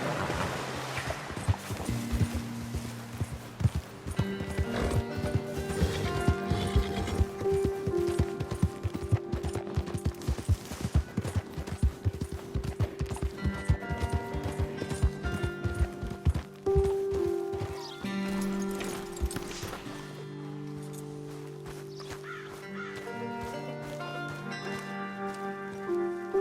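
A horse gallops in Red Dead Redemption 2, its hooves drumming in a fast, steady rhythm for most of the stretch under a sustained music score, then easing off toward the end.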